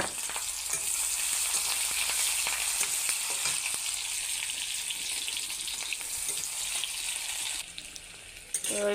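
Onions frying in hot oil for a Bengali biulir dal, a steady loud sizzle and crackle close up throughout, with faint scraping of stirring and a slight drop in intensity near the end.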